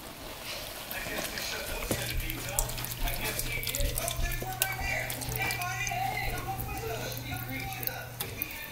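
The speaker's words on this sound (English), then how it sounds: "I got 2 cups of heavy whipping cream I'm going to pour in here" Heavy whipping cream pours steadily into a pan with a soft, continuous splashing, close by, while a person talks over it and a low hum persists.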